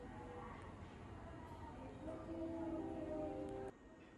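A commuter train ride near Atami station in Japan: steady interior rumble and rolling noise with a rising whine that cuts off near the end, heard from inside the carriage.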